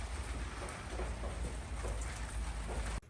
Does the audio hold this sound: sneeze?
no